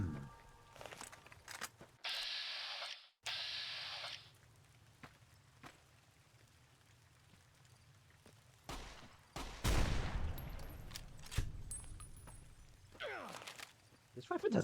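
Rifle fire in the video game Fallout New Vegas comes in loud, sharp bursts, with a dense volley near the end, mixed with game ambience and occasional talking.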